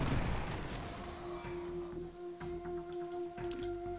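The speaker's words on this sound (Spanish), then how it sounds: "Ráfaga de disparos." A rapid burst of gunfire in the sci-fi video game Deep Sky Derelicts, with sharp repeated shots over a steady electronic tone and low rumble, no voices.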